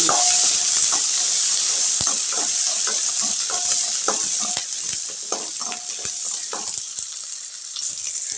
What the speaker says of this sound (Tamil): சின்ன வெங்காயம் இதுக்கு சின்ன வெங்காயம் தான் நல்லாயிருக்கும் பூண்டு ஒரு பத்து கிலோ நல்லா வதங்கி